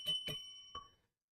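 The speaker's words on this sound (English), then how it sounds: "Can you hear the bell?" A bell rings sharply twice in quick succession, then once more a little later, each ding bright and ringing briefly before fading, in a quiet room with no talking.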